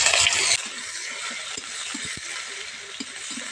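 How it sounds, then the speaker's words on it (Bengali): Chopped onion frying in oil with bay leaf and whole cumin, a strong sizzle bursting at first then settling into a steady crackle, with a few soft stirring knocks near the pan. "পেঁয়াজটা একটু নরম করে ভেজে নিতে হবে"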